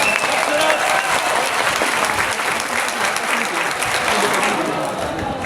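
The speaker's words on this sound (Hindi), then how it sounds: "उनके लिए तालियां बजा देंगे।" An audience applauding at a university poetry event, dense sustained clapping from a crowd that stays loud and even for several seconds before easing slightly.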